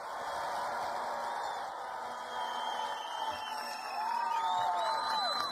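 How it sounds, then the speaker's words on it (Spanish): A crowd at a Colombian government outreach event applauds and cheers for the president, a steady faint roar of clapping and distant whoops, with a public-address voice nearby. "Un fuerte aplauso para Gustavo Petro Urrego, presidente de Colombia"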